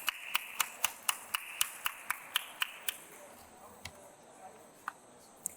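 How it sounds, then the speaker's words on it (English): Sparse, rhythmic hand claps at an expert panel event on green economic zones, about a dozen evenly spaced claps that then slow to a few scattered ones, fairly faint in a quiet room. "Please give them a warm round of applause."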